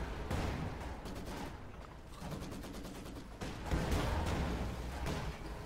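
Anti-tank gun fire in Company of Heroes 2 rings out amid a dense wartime battle soundscape, with rattling shots and rumbling explosions and one louder blast standing out partway through.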